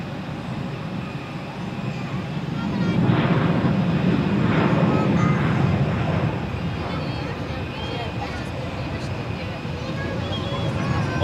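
An Emirates airliner at Zurich Airport produces a deep jet-engine rumble that swells for a few seconds and then eases back to a steady background roar, while people talk over it.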